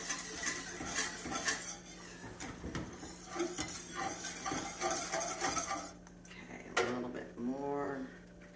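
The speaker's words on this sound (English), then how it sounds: "And I'm scraping the bottom of my skillet good." Metal utensil scraping and clinking against the bottom of a skillet of sausage gravy, in a steady run of rough strokes with a low hum beneath and brief sizzle, while a person talks throughout.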